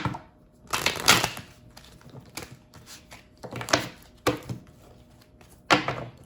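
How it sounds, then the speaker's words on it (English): A tarot deck is pull-shuffled by hand, giving several soft, rustling bursts of cards with short pauses between them. The sound is close and fairly quiet. "Let's give it a little pull shuffle here."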